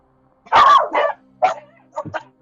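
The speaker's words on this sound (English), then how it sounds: "I'll pay no attention to my dogs" A dog barks several times close by in irregular bursts, with short yips between the louder barks.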